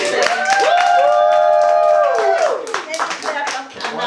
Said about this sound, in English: Alright, so give a round of applause, y'all.